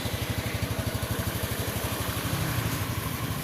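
A Honda Beat motorcycle engine runs after being kick started, a close, steady, rapid pulsing idle with an even throbbing beat throughout.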